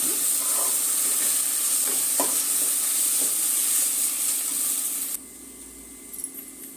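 Oil sizzles and hisses steadily in a pan while ingredients for biryani fry, with a few stirring scrapes. The sizzle drops abruptly to a quieter hiss near the end.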